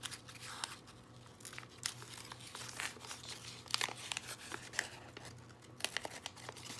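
Small scissor snips and crinkling of a paper template cut at the corners as a form for clay slab work, a string of close, quiet crisp clicks and rustles with irregular rhythm.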